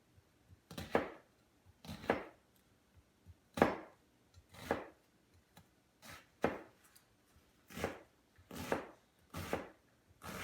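A knife chops an onion on a board in a loose rhythm of soft, close thuds, a dozen or so over ten seconds, quiet and without speech.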